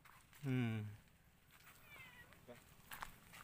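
A cat meows once, a short clear cry near the crabbing spot, followed by faint outdoor ambience and light background sounds.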